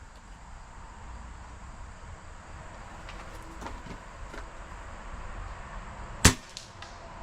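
A single sharp, muffled airgun shot fired through a Huggett Magna moderator with a subsonic 44 grain Javelin slug, a brief crack near the end over steady low background noise, then faint trailing ticks.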